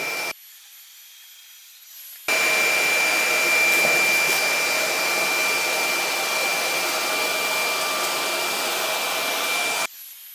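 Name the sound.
stick vacuum cleaner at maximum suction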